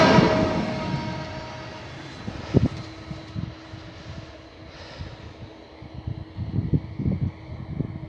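Passenger train, the first afternoon service, passing a level crossing just before La Molina station in cold weather: a steady mid-distance rumble with clattering wheel thumps on the rails, rising in the final seconds.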